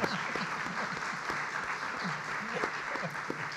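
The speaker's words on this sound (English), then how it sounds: "Could you give them a round of applause again, please?" Soft applause from the audience at a university panel discussion on disagreement, a fairly distant wash of clapping with some voices murmuring underneath throughout.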